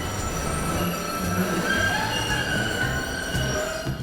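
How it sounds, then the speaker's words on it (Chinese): A Boston subway train, on the first subway line in America, runs with a continuous loud rumble and high metallic wheel squeal, steady throughout with no one speaking. "这个地铁呢是全美第一座地铁哦"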